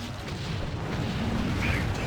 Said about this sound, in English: Give me a volcano up there